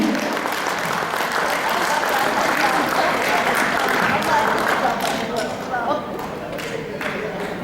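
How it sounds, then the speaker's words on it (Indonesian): An audience in a hotel ballroom at a conference session applauds, a dense sustained clapping that stays full for several seconds before slowly thinning out. "Kita berikan tepuk tangan sekali lagi."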